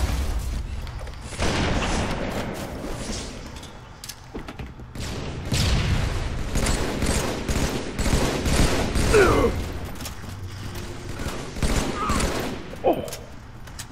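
Halo 3 gunfire as a dense run of rapid shots and booming blasts, loud and near, with shouting voices over the shooting.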